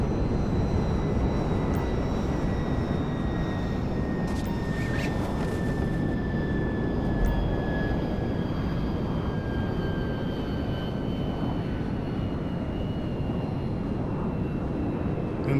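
Propeller plane engine droning in Grand Theft Auto 5, a steady loud continuous hum with a slowly falling pitch as the aircraft passes, heard alone without voices.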